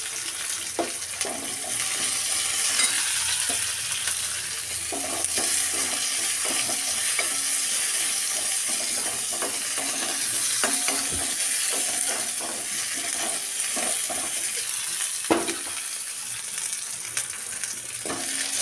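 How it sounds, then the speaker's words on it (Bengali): Chopped onion frying with nigella seeds in a pan, a steady loud sizzle running throughout with repeated scraping strokes of a spoon stirring it, no voices. "পেঁয়াজটাকে আমি খুব ভালো করে ভেজে নেব।"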